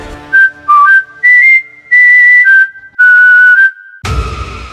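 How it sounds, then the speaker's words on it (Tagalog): A clear, close whistle of sustained tones sliding between pitches, broken by short pauses, ending in a burst of low rumbling noise. "Nang may biglang sumipol, direkta sa kanang tenga ko."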